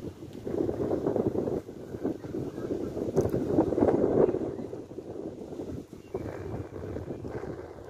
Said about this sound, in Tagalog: Lamig, lakas ng hangin,